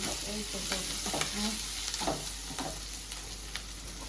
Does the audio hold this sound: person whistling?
no